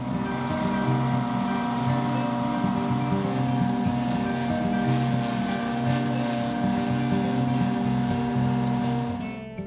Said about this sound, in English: we're going to be able to put this through the chipper shredder in the hopper and actually shred it up